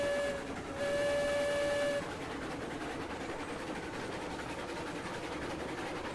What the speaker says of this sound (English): Beautiful, like, train noises.